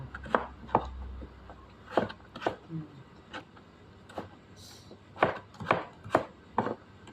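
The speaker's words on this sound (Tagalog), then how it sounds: "hiwa-hiwa na po natin lahat ng repolyo" A knife chops cabbage on a board, giving sharp, close thuds in uneven bursts, with brief talk between the cuts.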